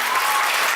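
Audience applause for the ten finalists at the Mademoiselle Île de la Réunion 2024 pageant, a short, dense, steady burst of clapping filling the hall without voices.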